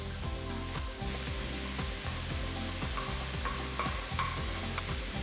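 Chicken fried rice with soy sauce is stirred in a kadai, a steady frying hiss over a loud low rhythmic hum, with repeated scraping strokes of a spatula at a regular pace.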